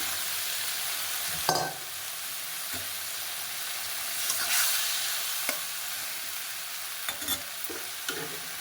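Taro sizzles in hot oil in a pan with cumin powder, a steady bright hiss broken by occasional scraping stirs and clinks of the spatula, close by and with no voices.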